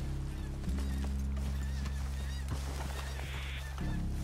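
Horses in the Red Dead Redemption 2 video game, with soft hoof clops and a faint whinny set against a steady low game hum and ambient tones, with no talking.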